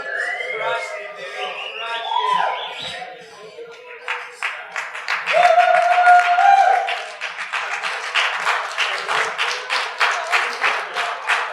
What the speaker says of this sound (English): One more round of applause for our best man, Trenten.